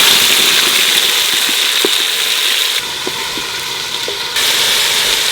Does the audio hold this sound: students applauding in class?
no